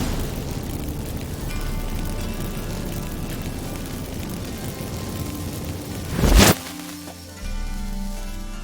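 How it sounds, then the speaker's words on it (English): Magic fireworks set off from activated incense in Witcher 3: one sharp, loud burst near the end cuts through a steady low rumbling game ambience, followed by a brief hush and then the background hum returns. "Get ready for some magic fireworks."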